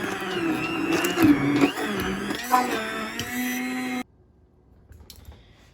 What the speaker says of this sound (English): it is all done with the immersion blender